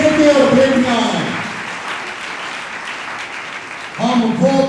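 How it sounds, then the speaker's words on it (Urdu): A congregation in a church claps together during a Christian youth gathering, a brief burst of applause in the middle of the stretch with a man's speech before and after it. "تالیاں بجا کر خدا کا شکر ادا کریں"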